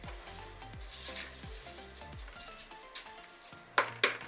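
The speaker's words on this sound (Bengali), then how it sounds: "ততক্ষণ পর্যন্ত ভাজতে থাকবো যতক্ষণ না পর্যন্ত চালের গা থেকে শনশন একটা আওয়াজ হচ্ছে।" Raw rice frying in a pan for chicken biryani, a steady close sizzle and hiss with a few sharp spoon or pan scrapes near the end, no voices.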